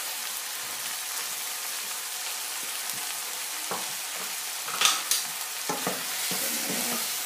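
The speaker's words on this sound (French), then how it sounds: "Je mélange ça bien." Curried potatoes sizzle steadily in a frying pan while a spoon stirs them, with several scraping, clinking strokes rising above the constant hiss toward the end.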